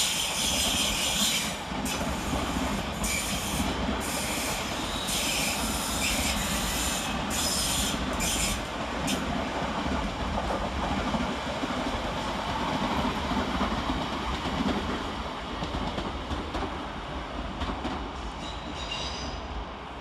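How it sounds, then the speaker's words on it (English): Two coupled London Northwestern Railway Class 350 electric units, 350-248 and 350-254, pull out of London Euston on a Tring service. A loud, continuous rumble of wheels and traction carries high metallic squeals over the first half, then the sound slowly eases. "Next out to depart is 350-248 and 350-254 with the 1324 London Northwestern Railway service to Tring"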